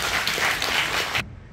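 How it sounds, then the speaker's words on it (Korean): Audience applause for a Korean dance instructor at a seniors' gathering, a steady wash of clapping from a room full of people that stops abruptly near the end. "박수 부탁드리겠습니다"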